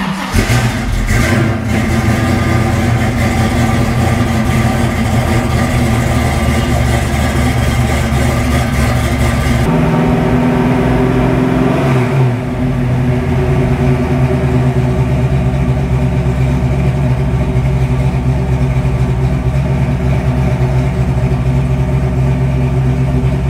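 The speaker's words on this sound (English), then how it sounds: "Let's go ahead and fire up the car and see if it works." A car engine cranks and fires up, then settles into a steady idle with a deep, constant hum after a mechanic installs an air fuel gauge, loud and close, with no voices over it.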